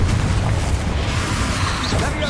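Confringo blasting spell going off in Hogwarts Legacy on PS5, a dense low rumbling burst sustained throughout amid busy battle noise, with voices and shouted spell names around it.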